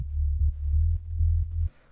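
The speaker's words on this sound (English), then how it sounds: "And so my sub bass sounds like this" An EDM house sub bass synth line plays a deep, loud, sustained note pattern. The notes change in short rhythmic steps, and the line ends abruptly after about two seconds.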